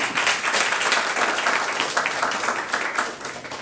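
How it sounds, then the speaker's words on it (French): A congregation in a church claps together, a dense, steady burst of applause that tapers slightly toward the end. "Et on peut les applaudir,"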